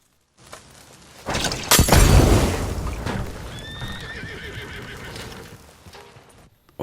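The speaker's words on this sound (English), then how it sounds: "Horse freaks out, only natural" A horse in Red Dead Redemption 2 panics at a night campfire, letting out a loud, shrill whinny over a sharp shatter and a burst of hoofbeats, then snorting and neighing as the flames roar on.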